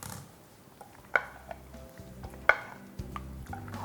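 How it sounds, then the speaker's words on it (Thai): Boiled, cooled pasta tossed with prawns and a spicy salad dressing in a bowl, a few close, sharp clinks and knocks from utensils spaced unevenly among soft, wet mixing sounds, with no talking. "ใส่ลงไป คลุกเคล้าให้เข้ากันครับ"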